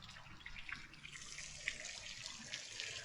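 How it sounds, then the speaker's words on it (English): Water splashing steadily from a backyard pond waterfall built with large stones, a continuous close rushing and trickling that fills the whole stretch without pause. "About time to turn the waterfall back on."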